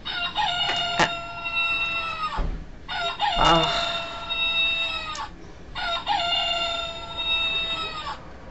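Rooster crowing three times in a row, each call a loud, drawn-out, harmonic cock-a-doodle-doo, with short gaps and faint background sounds between them.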